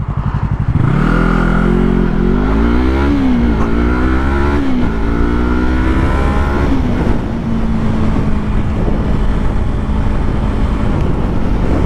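A 2019 Yamaha R3 motorcycle launches from a stop and accelerates to 50 mph, its engine climbing in pitch through several upshifts before settling into a steady cruise, loud and close.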